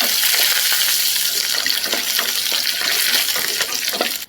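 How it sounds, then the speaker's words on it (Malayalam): Shallots and curry leaves sauté in hot oil in a pan for a dal and drumstick-leaf curry, giving a loud, dense, continuous sizzling hiss up close that cuts off abruptly at the end. "ഇതെല്ലാം കൂടി ഒന്ന് വഴറ്റി കൊടുക്കാം."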